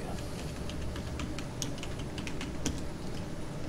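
Computer keyboard being typed on, a steady run of close, crisp key clicks with a few louder taps like the Enter key, no voices.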